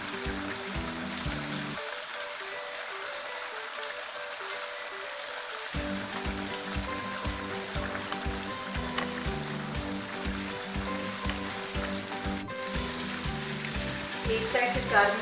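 Chicken pieces for a Zinger burger deep-frying in oil over a medium flame: a dense, continuous crackling sizzle, close and steady throughout, with an intermittent low pulsing hum underneath and no talking.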